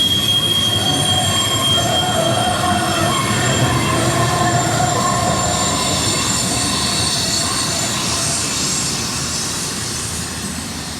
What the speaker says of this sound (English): Those brakes are so loud.